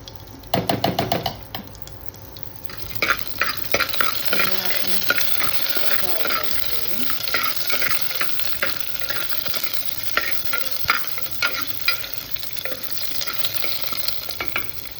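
Whole spices (bay leaf, cinnamon, black pepper, cloves and cardamom) fry in hot oil in a pan. A loud burst opens, then an even sizzle continues with rapid stirring clicks and scrapes, no voices.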